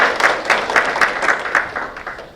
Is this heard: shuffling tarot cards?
no